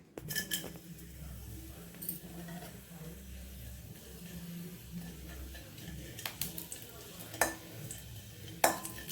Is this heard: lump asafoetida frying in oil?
yes